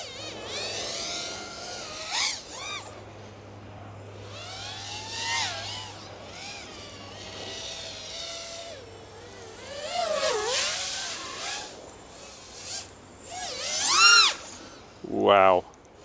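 An HGLRC Batman220 FPV drone with 2207 1775kv motors on 6S power whines and revs up and down in rising, sweeping pitches, climbing toward full throttle near the end, with someone talking throughout.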